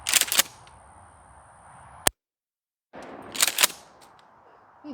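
Two sharp 12 gauge shotgun blasts sound outdoors during a gong shooting test, each a short clustered crack, separated by a brief dead-silent gap.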